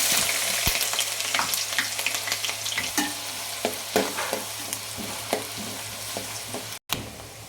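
Onions frying in hot oil with cinnamon and cloves for a fish curry (chepala pulusu): a loud, steady sizzle with crisp popping crackles and stirring, no speech, ending in a sudden brief cutout.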